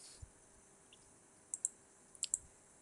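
A handful of faint, crisp computer mouse clicks, a couple of single clicks followed by closely spaced pairs, in a quiet room with no talking.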